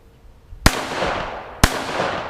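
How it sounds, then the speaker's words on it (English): Two loud, sharp gunshots from a Nighting 11 gun fired in a backyard, about a second apart, each cracking close by and ringing out in a long decaying tail. "That's a loud fucking gun."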